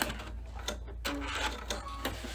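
Embroidery sewing machine stitching a tie-off at the end of a seam, a close mechanical whir broken by a few quick bursts of needle stitching, steady and moderately loud, with no voices.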